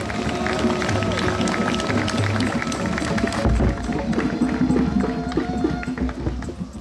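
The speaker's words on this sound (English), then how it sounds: "give yourselves a round of applause" Steady applause from an outdoor crowd at the 50th-anniversary Woodstock reunion, continuous dense clapping throughout with voices mixed in.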